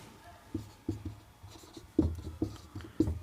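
Handwriting on paper for a physics problem: a pen or pencil scratches and taps in short, irregular strokes, close and fairly quiet, with a brief soft burst of strokes every half second or so.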